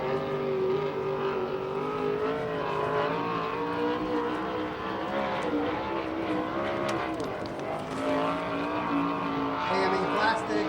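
USAC/CRA sprint cars racing a lap at Hanford, California, engines roaring continuously and loudly as a pack, their pitch rising and falling through the corners, with a speaker's voice partly audible over them.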